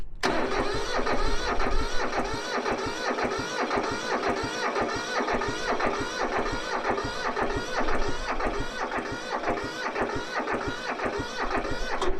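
A tractor engine runs after piston ring replacement, a loud, steady rapid chugging of regular firing pulses that continues throughout with no talking.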